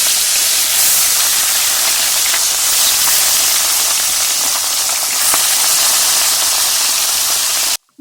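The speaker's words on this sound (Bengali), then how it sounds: "কড়াই গরম হয়ে গেছে, আমি মাছগুলো দিয়ে ভাজবো।" Bhola fish frying in hot mustard oil in a kadai, a loud, continuous hissing sizzle with faint pops, close and steady until it cuts off abruptly.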